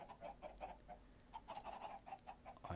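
A flock of Minecraft chickens clucks softly in a quick, irregular patter, faint and somewhat distant with a low background hum throughout.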